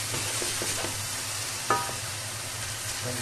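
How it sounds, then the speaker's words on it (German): Chopped onions sweat gently in a pan for a saffron sauce, a soft low sizzle with a few scrapes and stirring clicks from a utensil, no talking. "Die Zwiebeln ohne Farbe angehen lassen, nur anschwitzen."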